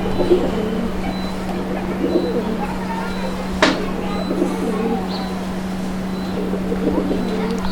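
Old-breed desi golla pigeons coo in a low, soft murmur beneath a steady mechanical hum and people talking nearby, with one sharp click partway through.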